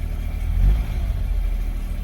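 A 2003 Smart fortwo car engine hums low and even after a spark plug replacement, with a slight swell early on, then settles into a smooth, steady running sound.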